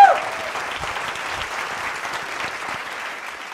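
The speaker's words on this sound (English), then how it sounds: "a round of applause" A conference audience at a tech talk claps in a dense, steady burst of applause that fades slightly, with a faint voice at the start.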